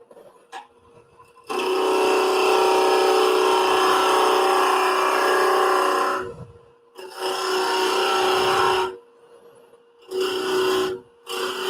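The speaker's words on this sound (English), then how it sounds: "I think it's drilling a hole in that end." A drill bores a hole in a wooden woodturning piece: a steady, loud mechanical whine with a buzzing hum runs for several seconds, stops briefly, then resumes in two more shorter bursts.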